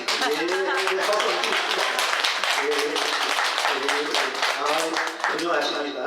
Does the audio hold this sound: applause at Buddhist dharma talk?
yes